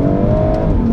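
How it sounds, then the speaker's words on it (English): A BMW M140i hot hatch engine revs hard under acceleration, a loud, steady, close-up roar with a sustained rising drone and no talking. "As this engine screams"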